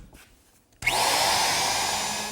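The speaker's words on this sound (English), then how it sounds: "Now I've switched to my router." A router with a roundover bit whines up to speed after a quiet moment, then runs steadily cutting the corners of a wooden table leg, loud and close, with a continuous high-pitched hum.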